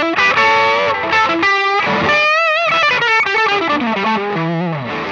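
Overdriven electric guitar through a Paul Cochrane Timmy V3 transparent gain pedal, playing loud, articulate chords and single-note lines with clear pick attack and note definition, with no talking.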